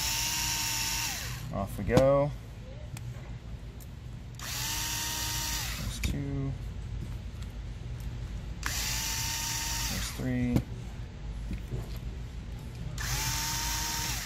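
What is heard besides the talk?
power drill removing Traxxas nitro engine back plate screws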